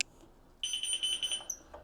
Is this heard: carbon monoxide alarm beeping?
yes